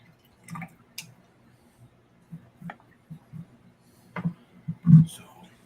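Thinned paint is stirred for an airbrush, giving a series of soft, wet clicks and squishes spaced irregularly. The sounds are close and quiet, with near silence between them.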